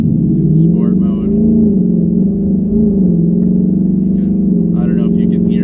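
Car accelerating gently from a stop in sport mode on a wet road, on Michelin Pilot Sport 4S tyres, a steady loud engine drone rising slightly, with someone talking over it.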